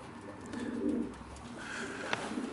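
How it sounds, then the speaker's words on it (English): Pigeons coo softly inside a pen, a low rolling murmur that swells and fades, with a brief sharp click near the end. "We're only down to about a dozen pigeons."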